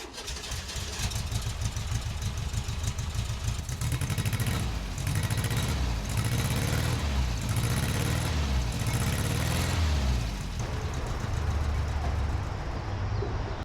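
Air-cooled 50 hp engine of a 50-year-old Volkswagen Beetle running with a steady mid-pitched rattle and rumble, moderately distant, with a few slight rises in revs and faint background noise.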